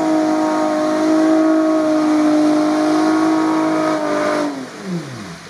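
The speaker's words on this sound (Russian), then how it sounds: "Саня включил блокировки и нажал на газ" A UAZ off-road vehicle with its diff locks engaged revs hard in a swamp, a loud, steady, close engine drone that holds high, then falls away in a sliding drop near the end.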